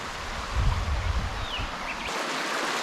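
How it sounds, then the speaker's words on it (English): A small creek flows steadily in a natural outdoor setting, a continuous close hiss of running water with a brief lower splashing burble early on. "So beautiful little creek"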